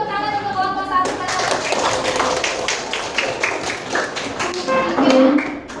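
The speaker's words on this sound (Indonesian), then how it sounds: "beri tepuk tangan untuk kelompok 1" Schoolchildren in a classroom clap for a group of classmates, a loose scattered round of hand claps and taps close by, with a voice speaking before it and a voice near the end.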